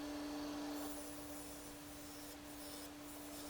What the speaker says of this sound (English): Using a skew chisel here,